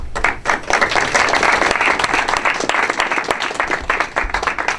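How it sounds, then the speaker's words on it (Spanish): Conference audience applauds two speakers at a talk on Venezuela's current situation, a loud, close burst of dense clapping with sharp individual claps standing out, sustained for several seconds before thinning toward the end. "les demos un aplauso a ambos expositores"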